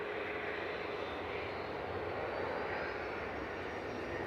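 A KLM jet airliner departs Manchester Airport, heard as a continuous broad engine roar, steady and fairly distant, with no talking over it.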